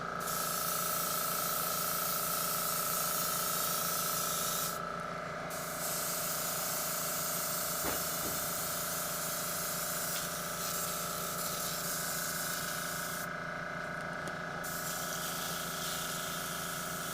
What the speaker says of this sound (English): it is important that the airbrush is, keeping the airbrush fairly far away.